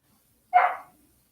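A pet dog gives one short, sharp bark indoors, close and moderately loud, with silence around it.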